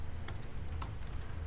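Typing on a computer keyboard, two or three quick key clicks over a low steady background hum, close and fairly faint.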